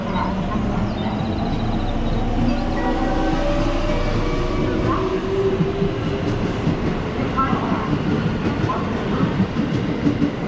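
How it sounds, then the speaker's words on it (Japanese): A train pulls into platform 5 at Amagasaki Station on Japan's JR Kobe Line, a steady, loud rumble of wheels and cars that lasts the whole time under faint station ambience. "5番乗り場、電車が参ります。"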